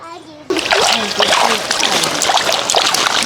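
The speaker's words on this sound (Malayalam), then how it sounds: "അപ്പോൾ ഇത്തിരി വെള്ളം ഒന്ന് തളിച്ച് കൊടുക്കുവാണേ." Water sprinkled onto plants splashes and patters steadily after a quiet start, a continuous spraying sound close by, with a voice talking faintly underneath.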